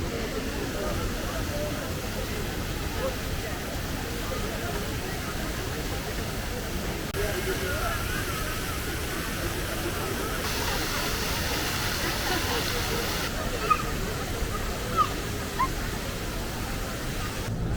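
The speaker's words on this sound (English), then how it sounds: "I've come out just in time for some fountains." City fountains at night in Kuala Lumpur give a steady, rushing splash of falling water, with someone talking over it and a few faint background knocks.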